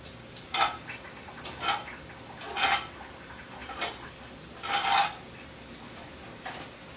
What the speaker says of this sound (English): Stir our onions.